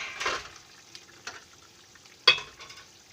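Bhola fish dropped one by one into a pan of curry, soft sizzling and stirring bursts, quiet and close, with a sharper splash-sizzle near the end.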